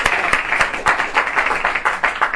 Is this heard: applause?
yes